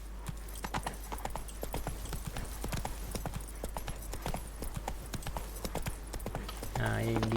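Geralt's horse Roach gallops in The Witcher 3 with rapid, evenly spaced clip-clop hoofbeats, close and clear, until a different sound cuts in at the very end.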